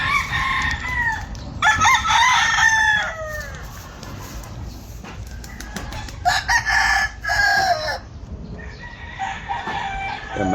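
Several gamecock roosters crow loudly nearby in repeated rising-and-falling calls, two overlapping bursts separated by quieter clucking and farmyard background.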